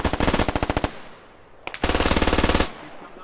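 MG3 machine gun fire in the video game Squad, two rapid bursts of evenly spaced loud shots, the first about a second long, then a pause and a single report before a second longer burst, close and sharp.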